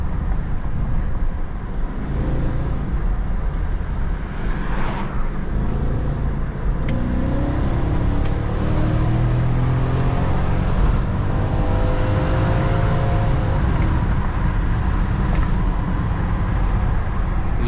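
A remapped 309 hp BMW X5 4.4i E53 SUV engine pulls hard on a curvy road, a loud continuous drone that rises in pitch through repeated revving sweeps and gear changes, close and steady throughout with no talking.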